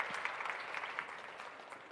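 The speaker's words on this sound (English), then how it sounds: "Once more, big round of applause to Lakshmi." Audience applauding in a conference hall at an Invest Karnataka event, steady sustained clapping from many hands, fairly distant and even throughout with no voices over it.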